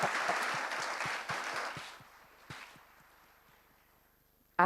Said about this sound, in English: if we can applaud loudly for Yogi Rajji so that he can hear it all the way in Mysore